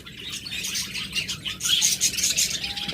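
A pair of cockatiels call with repeated bright chirps and tweets, moderately close, over a low background hum.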